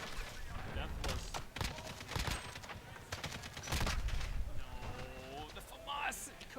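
Rapid FAMAS rifle bursts in a Modern Warfare multiplayer match, dense gunfire crackling throughout under overlapping voices and game noise.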